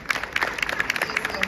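Conference audience clapping at a NACO annual conference, a brisk burst of many hands together, fairly close and steady for about a second and a half, with some crowd chatter mixed in.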